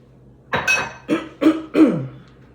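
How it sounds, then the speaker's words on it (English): Someone clears their throat close up in four short, rough bursts, a hoarse harrumphing sound with brief pauses between. "I'm clearing my throat."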